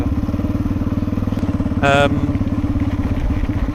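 An off-road motorcycle idles and chugs with a steady, loud throb as it slides sideways on a slippery trail, with a brief revving whine midway through.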